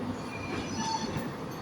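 HST train on an Aberdeen to Glasgow Queen Street service, with a steady rumble of carriages and wheels and faint squeal, moderately close and continuous with no talking.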